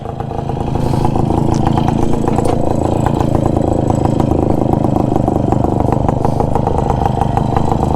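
A TVS XL 100 moped engine runs steadily up close, a loud continuous buzzing putter with rattling clatter that holds unbroken throughout.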